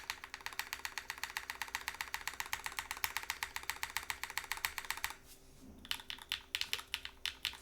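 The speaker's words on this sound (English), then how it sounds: "Now that we can kind of understand the sound signature of the keyboard a bit." Typing on a custom Void65 mechanical keyboard, a steady close run of crisp keystrokes for about five seconds, a brief pause, then another burst of keypresses.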